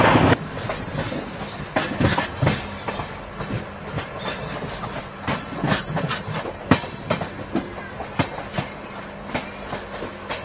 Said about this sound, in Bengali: মাদারিহাট স্টেশনের অ্যারাইভেল দেখাচ্ছি তোমাদের